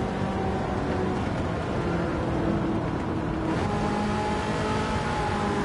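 A race car in Gran Turismo 7 accelerates at full throttle, its engine roaring loudly and steadily with a shifting pitch throughout.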